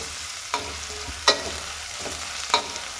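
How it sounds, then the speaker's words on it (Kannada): Onions frying in a pan until reddish-brown for horse gram sambar: a low continuous sizzle broken by four or five crisp spoon scrapes against the pan. "ನೀಟಾಗಿ ಕೆಂಪಾಗೋ ರೀತಿ ಫ್ರೈ ಮಾಡಬೇಕು"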